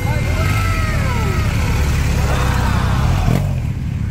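A BMW R1250 GS motorcycle engine runs steadily at a busy motorcycle fair, a loud continuous drone with rising and falling tones and a brief rev, mixed with crowd noise and people talking nearby.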